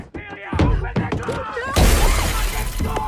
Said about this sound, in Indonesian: Dan Adrian pun memecahkan kaca mobil Emily.